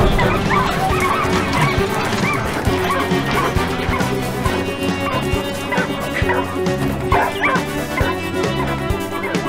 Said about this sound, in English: Dogs are now being loaded into the trap.